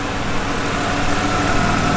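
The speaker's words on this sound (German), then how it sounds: "Also müsst ihr jetzt dann wahrscheinlich mal ganz kurz das ertragen, dass der Motor die ganze Zeit läuft." An Alpina car engine, either a B3 3.0 E36 or a B10 3.3 E39, idles steadily nearby as a constant low, even rumble with a faint vibrating hum and no talk over it.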